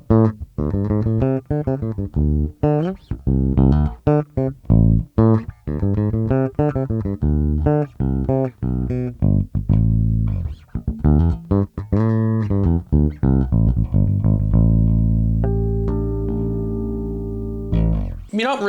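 Sterling Ray 24 bass guitar with ceramic pickup and bass and treble tone knobs cut, playing a busy line of plucked notes with a dull, rounded tone, loud and close, ending on a long sustained note.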